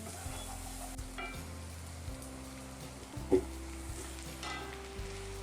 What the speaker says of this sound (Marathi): कांदा जो आहे तो आपला गोल्डन ब्राऊन होईपर्यंत छानपैकी कांद्याला असं मिक्स करून घ्या